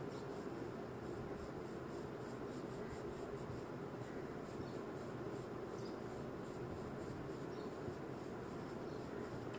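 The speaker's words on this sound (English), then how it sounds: "By using your pencil colors, complete your air balloon." Colored pencils fill in a drawing of a hot air balloon on paper, making a steady, continuous soft scratching of strokes with no talking.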